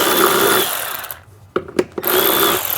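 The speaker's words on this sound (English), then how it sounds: "I'm gonna remove these tiny little screws" A power tool whirs steadily while backing out tiny screws on a Saturn Sky, cutting off for a short pause filled with a few sharp clicks before the buzzing resumes at close range.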